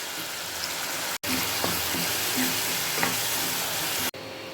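Ground spice powder is stirred into fried garlic in oil for temple-style tamarind rice, a close, continuous sizzle with soft scraping of the spoon through the mix.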